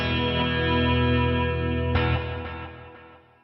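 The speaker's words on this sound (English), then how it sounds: "if I bring it all the way up, then there's nothing but delay" A sustained electric guitar chord through a NUX MG-300 multi-effects unit, smeared by heavy echoing delay repeats, the tail washing on and fading slowly, with a fresh strum partway through.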